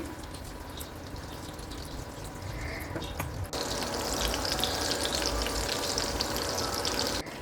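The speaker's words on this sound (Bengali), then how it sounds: "কড়াইতে তেল দিয়ে দিলাম মাছগুলো এক এক করে ছেড়ে দিচ্ছি" Fish pieces frying in hot oil in a wok for chilli fish, a steady close sizzle and crackle that grows louder and denser midway as more pieces go in.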